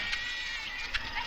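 Sheep bleat in a rural village film scene, a faint, short cry heard through steady background noise with no clear talk over it.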